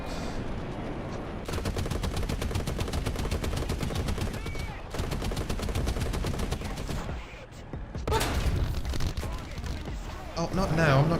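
Aircraft cannon fire in the War Thunder combat game: long, rapid bursts of loud rattling shots, broken by short pauses, then a heavier final flurry.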